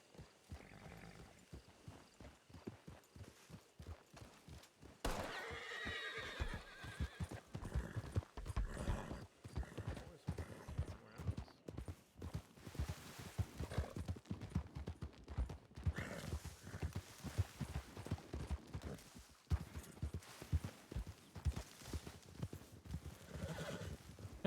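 Horses in WildRP, a Western roleplay game, clop along with steady rhythmic hoofbeats, broken by repeated whinnies and neighs, fairly close but quiet in the mix, continuing for the whole stretch.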